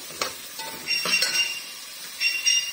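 Whole spices and green chillies roasting in a pan for an aloo matar tahiri, a steady sizzle with a few stirring scrapes and clatters, fairly close, no voices.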